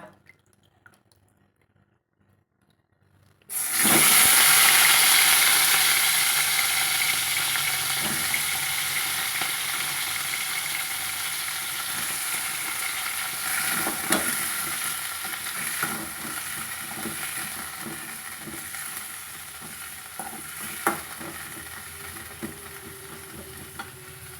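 Small cubes of tender eggplant hit hot oil with a sudden loud sizzle that keeps hissing and crackling steadily, slowly easing off, as the vegetables fry for an eggplant masala gravy.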